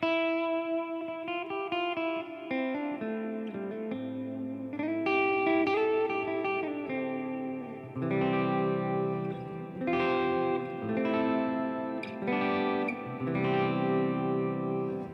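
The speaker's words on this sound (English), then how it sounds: "this reverb has like 10 seconds of decay" An electric instrument plays sustained chords and melodic phrases drenched in long, washy reverb with about ten seconds of decay, each note trailing off slowly into the next.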